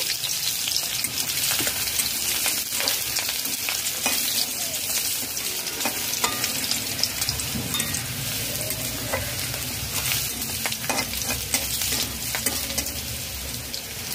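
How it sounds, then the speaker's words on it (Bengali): Chopped garlic frying in oil with white cumin, a steady close sizzle with stirring scrapes running throughout, no talking. "রসুনের কালার চেঞ্জ হয়ে গেছে, 1 মিনিট ভেজে নিয়েছি"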